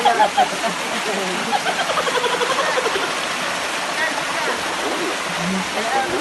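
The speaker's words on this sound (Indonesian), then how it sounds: "ini kayak lagi di semacam curug gitu ya, air terjun" A waterfall rushes in a continuous broadband hiss and splash, with scattered spattering droplets and a voice talking over it.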